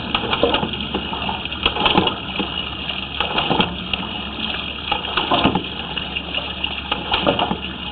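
Water flushed through a sewer line to push past tree roots, a steady rushing, churning gush with no break that stays loud and close throughout.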